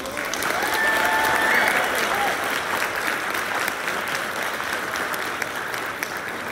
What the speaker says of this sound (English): If you would join me in giving them another round of applause.